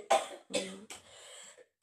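Three close, dry coughs in quick succession, followed by a faint throat sound.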